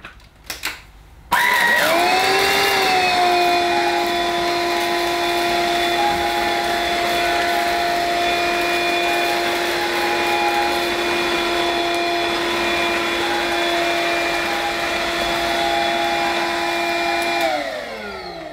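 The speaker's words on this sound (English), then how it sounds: "the Bissell Powerglide Cordless isn't very effective when using the low power setting and deactivating the brush roll" A Bissell Powerglide Cordless vacuum cleaner on its low power setting with the brush roll off starts up after a click and runs as a steady whining hum with stable tones, then winds down at the end.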